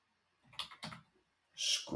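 Keys on a computer keyboard tapped in short clustered bursts while entering a Google Apps Script command, close and fairly quiet, with brief pauses between groups of clicks and no talking.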